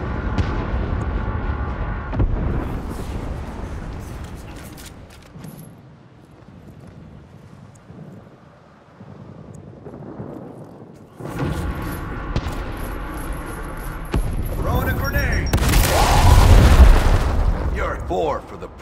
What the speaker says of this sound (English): Clear them out with a frag grenade!